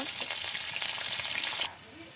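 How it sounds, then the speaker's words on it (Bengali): Chopped onion, garlic, green chilli and garam masala sizzle loudly in hot oil, a dense frying crackle that drops off abruptly after under two seconds. "এবার আম্মু পেঁয়াজ কুচি, রসুন কুচি, কাঁচামরিচ কুচি আর গরম মশলা দিয়ে দিল তেলে"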